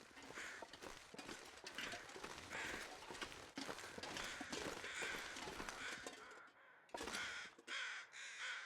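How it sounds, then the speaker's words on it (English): Carrion crows cawing in the survival video game The Long Dark, faint and distant over a busy bed of crunchy footsteps and ambient wind, with the harsh calls scattered through the scene. "I hear other carrion crows."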